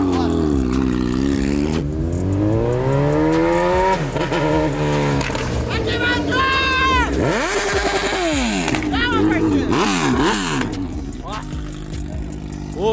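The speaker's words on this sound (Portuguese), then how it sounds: "Mano, essa moto é barulhenta demais." A loud Honda CB1000 motorcycle engine revs and roars up and down continuously at a racetrack, with repeated throttle blips, close by, with voices faintly underneath.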